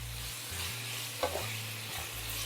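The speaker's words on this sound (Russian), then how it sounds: "Перемешиваю." Soft scraping of a utensil stirring vegetables in a pan, with a low sizzle underneath and a brief knock midway.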